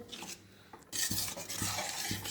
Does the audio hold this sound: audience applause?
no